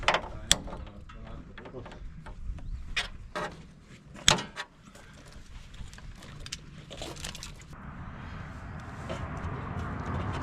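A ratchet clicking in short bursts while an airbag load-leveling kit is fitted on a 2017 Ford F250, with scattered mechanical clanks and some quiet background talk.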